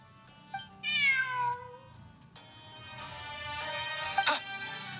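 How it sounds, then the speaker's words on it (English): Cat meowing in the Genshin Impact video game: several clear, drawn-out meows close up over soft ambient game sound, then a brief bright chime near the end. "Look! A cat!"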